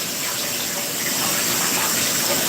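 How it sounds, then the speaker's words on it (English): Tap water runs steadily into a small bowl being rinsed in a kitchen, a continuous close rush of broadband noise with no pauses or talk. "Let's rinse this little bowl I was using."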